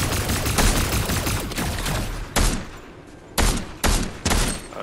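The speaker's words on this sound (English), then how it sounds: "Who's shooting?" Heavy video game gunfire: a sustained rattling fusillade for about two seconds, then several loud, separate bursts spaced apart, close and punchy.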